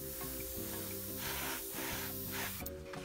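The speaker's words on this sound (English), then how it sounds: "Spraying at about 10 to 15 PSI." Airbrush spraying Mission Models acrylic paint at 10 to 15 PSI onto a 1/56 Rubicon M4 Sherman tank model, a steady close hiss running the whole time over a low humming tone.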